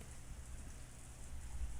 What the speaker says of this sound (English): Yes, it must be the sound of rain.